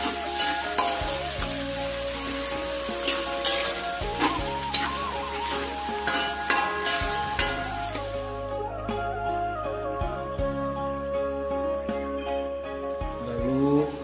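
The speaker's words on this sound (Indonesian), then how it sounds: "Lalu kita masukkan juga irisan cabenya ya. Ini sampai matang." Sliced chilies stir-fried in a pan for sambal cincalok, a steady close sizzle with repeated scraping strokes of a spatula, backed by continuous background music.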